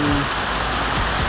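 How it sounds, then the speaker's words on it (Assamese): Rain falls steadily outside a house, a dense, close hiss of drops throughout a brief stretch. "বৰষুণ দিয়ে আছে"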